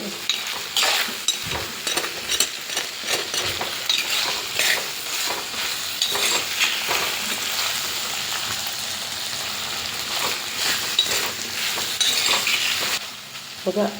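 Raw plantain frying in oil sizzles continuously while a spoon stirs it, with dense crackling and repeated scraping strokes against the pan throughout, loud and close, with no talking.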